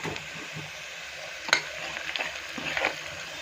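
Onions frying with salt in a pan, a steady soft sizzle with stirring scrapes and occasional clinks of a spatula, fairly close and moderately quiet.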